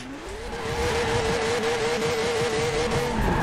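A Toyota GT86 engine in Forza Horizon 4 holds a sustained, loud rising drone as the car accelerates, the pitch climbing gradually and steadily with no talk over it.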